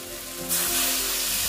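Water splashed into a pan of frying spiced potatoes for an egg and potato curry, bursting into a loud, steady sizzle after a quieter hiss, close up with no talking.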